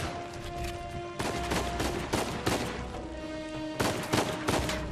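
Enemy gunfire in Uncharted 4, bursts of sharp cracking shots in clustered volleys, some rapid like a fusillade, over a steady tonal hum from the game.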